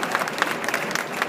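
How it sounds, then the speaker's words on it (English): An audience at a flower show stage presentation breaks into steady, dense applause for a university student guest, a brief continuous wash of many clapping hands. "Everybody, round of applause for Phoebe, a student at University of Delaware."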